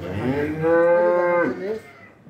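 A cow lets out a single long, loud moo up close, holding steady before trailing off into quiet.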